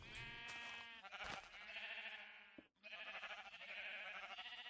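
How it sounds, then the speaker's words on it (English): Many Minecraft sheep bleat continuously in overlapping, wavering calls, dense and close, with a brief gap near the end and no talking. "we're just going to keep hearing every sheep around"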